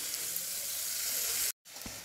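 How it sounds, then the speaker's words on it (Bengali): Carrots and capsicum fry with salt in a pan, giving a steady, close hiss of sizzling that breaks off for a moment before resuming. "হালকা লবণ দিয়ে গাজর আর ক্যাপসিকামটা একটু ভেজে নেব।"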